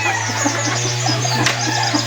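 Gamefowl hens cluck at a game farm, a run of short repeated clucks over a constant low electrical hum, fairly close and steady throughout.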